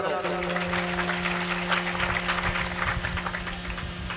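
Applause from a crowd at a devotional bhajan program, scattered clapping over a steady hum from the sound system, with voices mixed in.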